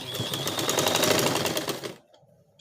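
A sewing machine stitches elastic into a trouser waistband in a steady, fast mechanical whir with a rhythmic needle chatter for about two seconds. Then it stops abruptly and near-silence follows.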